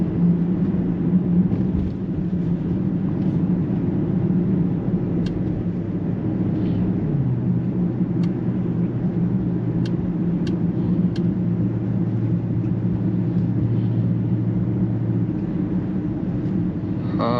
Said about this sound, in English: just enjoy the sounds of the exhaust,